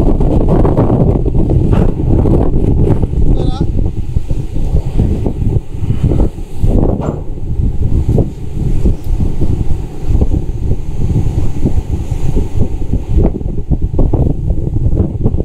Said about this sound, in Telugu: చాలా రఫ్ సీ, విండ్ 60 కిలోమీటర్ల వేగంతో వీస్తుంది గాలి